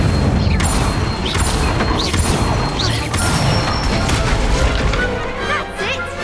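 In Hogwarts Legacy, Incendio fire spells blast again and again in quick succession. Loud booming crashes and whooshing bursts land about once a second over dense battle noise, with no voices in between.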